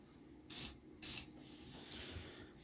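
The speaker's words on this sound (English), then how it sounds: "Now we're gonna put some WD-40 first to clean it further" Two short bursts of WD-40 sprayed onto the suspension of a Kingsong S18 electric unicycle, each a crisp, close hiss of about a quarter second, separated by a brief pause and followed by quiet background.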